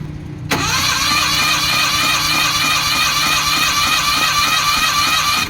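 A Suzuki F6A engine cranks over steadily on the starter during a compression test, a loud, even churning whir that runs unbroken for about five seconds after a short quiet start.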